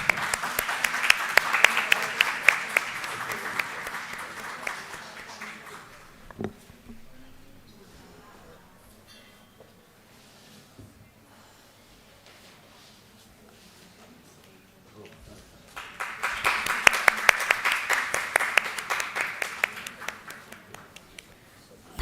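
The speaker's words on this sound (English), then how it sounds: "Round of applause, please." Audience applause at a formal welcome ceremony for a guest speaker, with a loud burst of clapping at the start, a quieter stretch of room noise and murmuring in between, then a second strong round of clapping.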